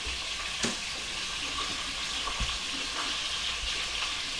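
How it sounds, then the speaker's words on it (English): Berries cooking into jam with a touch of lime juice, mashed and stirred in a pot: a steady bubbling simmer with occasional soft knocks and scrapes from the spoon, fairly quiet and close. "Take another chance to kind of smash up those berries while you can."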